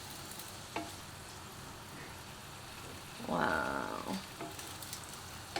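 Chinese meat pies (xianbing) frying in oil, a soft steady sizzle that swells into a louder crackling burst when they are turned, with a brief spoken exclamation.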